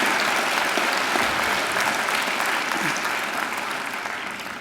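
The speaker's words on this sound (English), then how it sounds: "They deserve a great round of applause too." Audience at a Macquarie University graduation ceremony applauding, a full, steady crowd clap that stays strong for several seconds before gradually tapering off.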